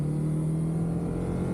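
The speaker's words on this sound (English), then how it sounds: "When I am in the high part of the rev range, it does make me grateful to have a stock exhaust system" An Acura with a stock exhaust revs high in the rev range, a steady, loud engine drone holding one strained pitch, heard from inside the car with no talking.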